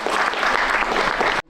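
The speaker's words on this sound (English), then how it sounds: "A round of applause, please." Audience at a peace symposium applauding, a dense, loud wash of clapping that holds steady for over a second and then cuts off abruptly.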